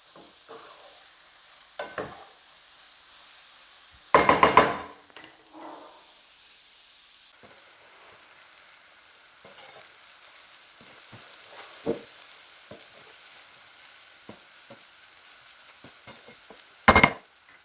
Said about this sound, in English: Allow the onions to cook for 4 minutes and mix it every 2 minutes